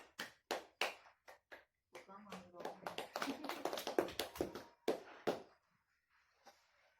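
Classroom clapping for a student, a few separate sharp claps followed by a quick scattered burst from several people, close and fairly faint, then fading out.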